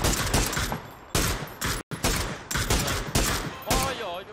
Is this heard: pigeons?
no